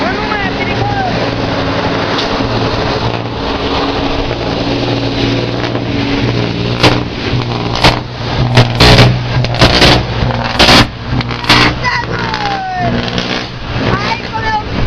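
A strong boat motor runs steadily throughout, a loud continuous drone with wind buffeting the microphone and sharp bursts of splashing or knocking in the middle.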